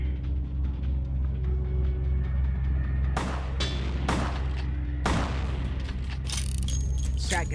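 Shotgun blasts from Vampire: The Masquerade - Bloodlines, several loud booms fired at irregular intervals over a low rumbling background, with voices present in the mix.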